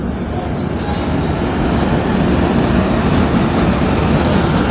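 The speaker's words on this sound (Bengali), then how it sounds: "এই মুহূর্তে রায়গড় স্টেশন ছেড়ে দিল আমাদের ট্রেন" A Humsafar Express train pulls out of Raigarh station with a loud, steady rumbling roar that holds evenly throughout, with no speech over it.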